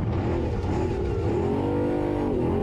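An off-road race vehicle powering through a desert race, its engine droning and revving steadily and loudly throughout, heard up close as if from onboard, with no voices.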